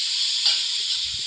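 Chicken hits a pan of browned garlic and sizzles with a steady, bright hiss. A soft low knock follows near the end.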